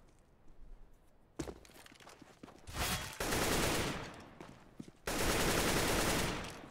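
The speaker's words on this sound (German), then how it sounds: "Da wird einfach mal drauf losgeballert." Automatic gunfire in the shooter game Counter-Strike: Global Offensive, with a few scattered shots and then long, loud bursts of rapid fire, interrupted by thuds and footsteps.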